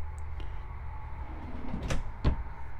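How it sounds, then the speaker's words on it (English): Drawers in the interior of a 2022 Keystone Montana Legacy 3781RL luxury fifth wheel RV slide and shut, giving two quick knocks near the end over a low steady background hum. "See those drawers? I just wanted to demonstrate that."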